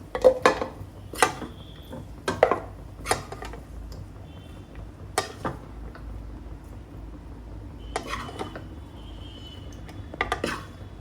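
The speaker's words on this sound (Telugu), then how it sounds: "ఇంకా చికెన్ ఫ్రై అయితే రెడీ అయిపోయింది నేనైతే బౌల్లో తీసుకుంటున్నాను" Chicken fry being served into a bowl, with sharp metallic clinks and scrapes of a utensil against cookware arriving in irregular bursts over a quiet background.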